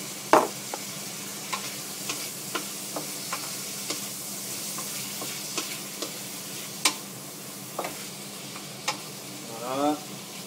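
Veal strips being stirred in a wok as they fry, a steady low sizzle carrying sharp scraping clicks of the utensil at irregular intervals, with a short burst of louder activity near the end.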